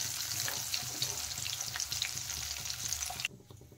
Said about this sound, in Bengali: ফোড়নে দিয়ে দিলাম তেজপাতা,